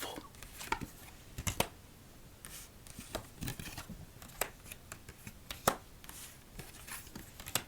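Rapid papery riffles and sharp snaps of playing cards being shuffled close by after solitaire games, in irregular bursts with no talking.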